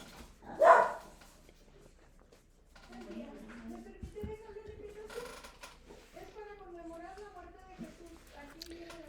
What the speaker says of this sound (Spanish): alguien tocó y mi perra empieza a ladrar